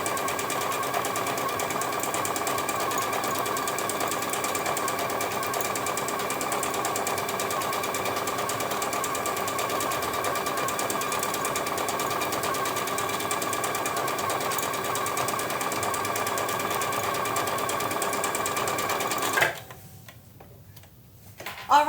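A sewing machine runs steadily, stitching decorative stitches at 3.0 stitch width on a tote bag, a close, rapid, even mechanical ticking hum lasting about twenty seconds before stopping abruptly.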